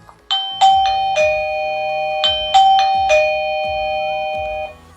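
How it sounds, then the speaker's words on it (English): The chime of a eufy Security S330 smart lock video doorbell rings with a series of bright, ringing ding-dong tones repeating in quick succession. Each tone decays gradually, and no voices are heard. "And like I mentioned on the product, it does have a chime. So we have to press on it 1 time."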